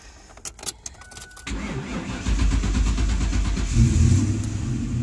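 A car with a dead battery cranks and fires up after a boost from a cheap portable jump starter pack, first a few clicks and cranking bursts, then the engine catches and settles into a loud, steady idle with a slight rev.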